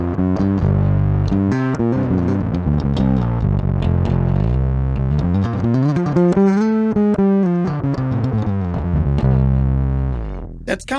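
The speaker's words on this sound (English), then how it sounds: "That's kind of like a normal distortion, one of your more straightforward ones" A bass guitar played through a straightforward distortion pedal on a pedalboard rings out in loud, gritty sustained notes and slides, with a rich buzzing overtone, alone and close for about ten seconds before cutting off.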